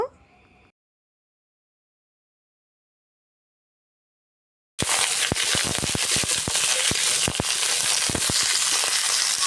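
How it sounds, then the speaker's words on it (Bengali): Green jackfruit frying in hot oil in a wok: after a short silence, a loud, dense, continuous crackling sizzle starts and fills the rest, close up with no talking. "এবার কড়াইতে তেল দিয়ে দেব এঁচড় ভাজার জন্য।"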